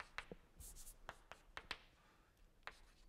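Marker or chalk strokes on a board during a mathematics lecture: a sparse series of short, crisp taps and scratches, moderately close but quiet against a low room hiss, with no talking.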